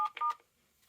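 A few short beeps from a security alarm system keypad sound in quick succession as a code is entered, followed by quiet.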